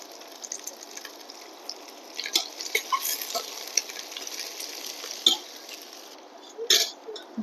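Halved garlic dropped into hot oil in a frying pan for winter-vegetable khichuri, a steady close sizzle with scattered crackles and pops and a few louder spits, no talking.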